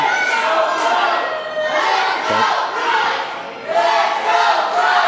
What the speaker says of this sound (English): The crowd firmly behind Jack Price here